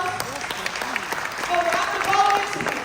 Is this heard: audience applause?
yes